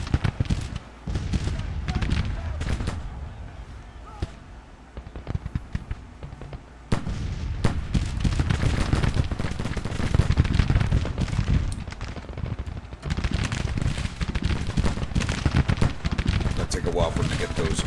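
Hall rifle volleys crackle through a Grand Tactician: The Civil War battle, dense overlapping shots and rolling musketry continuing steadily from start to finish with a low rumble beneath.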